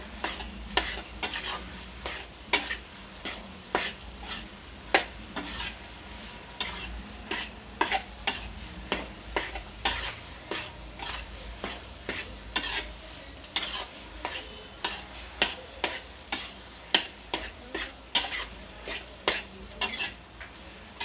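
Chokha roasting with dry spices in a pan, with a soft background sizzle under steady, rhythmic metal spoon clanks and scrapes against the pan, close and repeated throughout, no talking.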